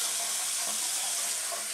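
Tap water runs steadily as a make-up brush is rinsed clean of foundation and powder, a close, even hiss of flowing water with no other sound.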